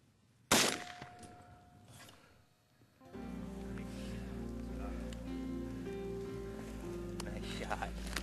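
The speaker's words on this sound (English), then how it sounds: "Nice shot." A Benelli R1 rifle with a scope fires a single sharp, loud shot early on, followed by a short echo and then a steady background hum of outdoor ambience.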